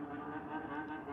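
Motor scooters race up and down a street beside schools, a steady, droning engine hum that holds at moderate loudness throughout, with no talk over it.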